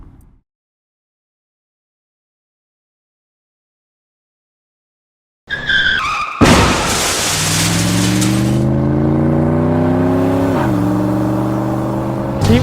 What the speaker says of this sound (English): We just watched him hit a car right in front of us